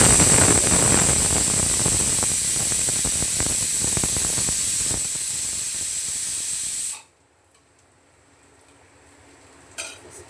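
Hot oil with hing and half a spoon of turmeric hisses and sizzles loudly and steadily on a high gas flame while tempering for chole, then cuts off abruptly, leaving near silence and a brief clink at the end.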